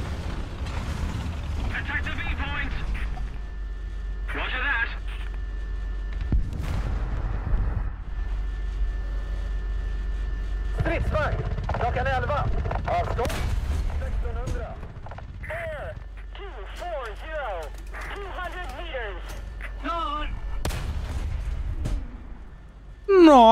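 Booming cannon shots from the VIDAR tank in the video game War Thunder, several heavy blasts across the clip over a rumbling engine drone, with speech intermittently over the top.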